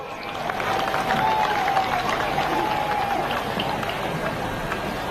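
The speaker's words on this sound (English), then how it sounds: "A big hand of applause." A crowd applauds at an outdoor Women's Day celebration after a Member of Parliament is introduced. Steady, broad clapping and crowd noise continue throughout at moderate loudness, and a faint thin whistle-like tone drifts through the middle.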